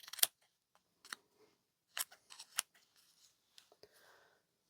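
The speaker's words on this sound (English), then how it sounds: "Just cut round it whilst holding it." Scissors snip around a paper leaf shape, two sheets held together, in a series of short crisp close cuts with pauses between them; no talking.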